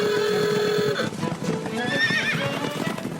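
Horse whinnying loudly at the start, followed by clip-clop hooves and more neighing, close and clear with no talk.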